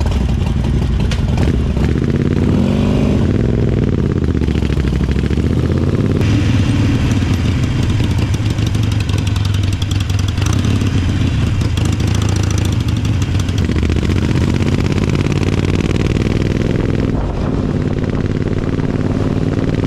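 A Harley-Davidson Iron 883 motorcycle engine rumbles loud and close throughout while riding, with its note rising and falling as the throttle changes and no voices over it.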